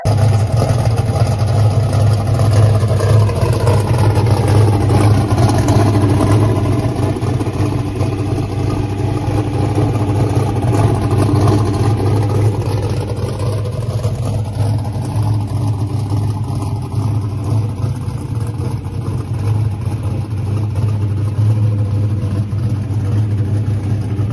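Loud, steady race car engine rumble at a dirt track, with a deep low-end drone, idling and revving slightly throughout, close by with no talking.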